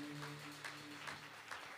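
A church congregation applauds to acclaim the Lord during a Sunday service, a soft, steady patter of clapping over a faint sustained tone.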